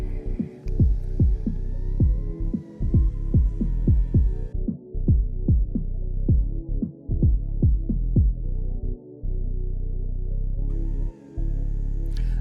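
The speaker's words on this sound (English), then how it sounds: "the drone will actually fly itself. It's going to actually go forwards and backwards and rotate to align the different cameras together" A DJI Avata 360 drone flies itself while calibrating, its motors giving a close, droning hum with a fast rhythmic throbbing pulse and shifting pitch as it moves and rotates.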